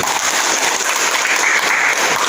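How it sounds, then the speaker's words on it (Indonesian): Applause from a class of students fills the room, a dense, steady wash of clapping at even loudness with no voices heard over it. "Mantap, tepuk tangan."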